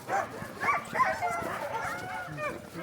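Sled dogs yipping and barking in short excited bursts, close by and busy throughout, with a person talking among them.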